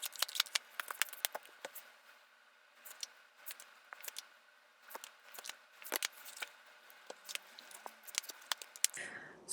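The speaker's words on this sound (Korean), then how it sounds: "추가 카드 한번 뽑아 볼게요" Tarot cards are handled and drawn, giving soft crisp slaps and rustles in an irregular patter, close and quiet, with no voice.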